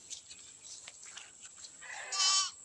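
Goats bleating on a farm, with a single short bleat rising near the end over an otherwise quiet background.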